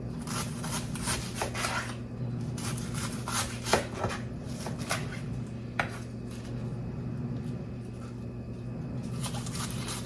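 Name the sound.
knife slicing food thinly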